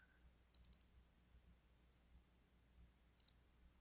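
Two quick bursts of computer mouse clicks, a cluster of three or four near the start and a pair near the end, crisp and close against a quiet background while working in CAD sketching software.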